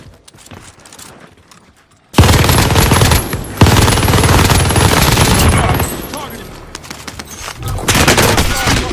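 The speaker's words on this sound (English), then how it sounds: "Like 90 bullets. Like, for real, I'm not even. Yeah, I saw that. It's a machine gun." Dense, loud machine gun fire in the Warzone video game breaks out after a quiet start and continues as a near, sustained stream of rapid shots.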